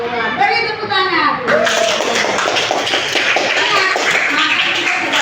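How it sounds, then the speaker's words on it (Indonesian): Sixth-grade schoolchildren in an Indonesian classroom clap their hands together after a short stretch of speech, producing a quick, fairly loud run of clustered claps that continues to the end. "Beri tepuk tangan."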